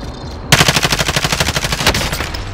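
Rapid automatic gunfire from Call of Duty: Modern Warfare, a loud, steady burst of about twenty evenly spaced shots lasting roughly a second and a half, then a brief tail of quieter echo.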